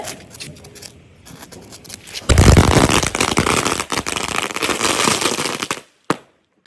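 A loud, rapid crackling string of Diwali firecrackers bursts close by, running for several seconds after a quieter start before cutting off abruptly.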